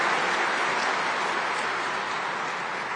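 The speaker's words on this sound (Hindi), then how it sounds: "ताली बजा करके अभिवादन।" An audience at the Brahma Kumaris Shantivan in Rajasthan applauds to welcome Prime Minister Narendra Modi: a dense, steady wash of clapping that holds evenly for the whole stretch.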